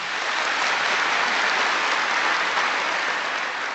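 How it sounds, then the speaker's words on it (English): An audience breaks into dense, sustained applause welcoming Richard Moore, a steady wash of clapping with no voices heard. "Please welcome him with a thunderous applause."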